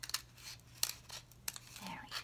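Scissors snip at a toilet paper roll for a birdhouse craft, a few quiet crisp cuts with light crinkling, close by.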